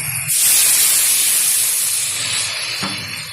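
Water poured into a hot pan of tilapia and eggplant curry sets off a sudden loud hiss of steam that holds steady for a few seconds, then slowly settles.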